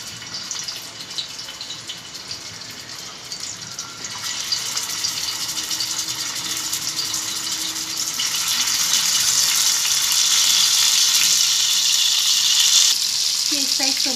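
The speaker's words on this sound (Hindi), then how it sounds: "देखिए तेल अच्छे से गर्म हो चुका है, हमें पूरे इस तरीके से इसका मसाला निकाल कर और फिर हमें हल्का से इसको फ्राई करना है" Mutton kebabs frying in hot oil, a continuous close sizzle that grows louder and denser partway through, with no talking.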